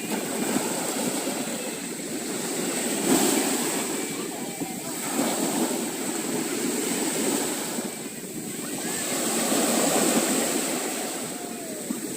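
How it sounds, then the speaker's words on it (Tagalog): Steady roar of heavy surf at a beach with waves surging and breaking in swells, broad and continuous, with a faint engine hum far off. "Malakas lang ang dagat."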